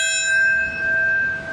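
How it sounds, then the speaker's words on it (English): A bell rings at the 9/11 Ground Zero ceremony, its clear, sustained metallic tone gently swelling and fading with no voices over it. "That bell rang at the exact time the first hijacked plane hit the first of the Twin Towers in 2001"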